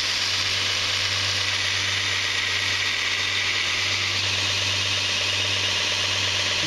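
Grinder running continuously on machined metal, a steady loud hum with a strong low drone and broad hissing grind that stays even from start to finish, with no talking.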